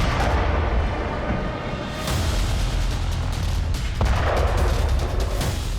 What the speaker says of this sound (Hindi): कीव के एयर डिफेंस से कई ड्रोन गिराए गए, लेकिन कीव के कुछ इलाकों में धमाके भी हुए।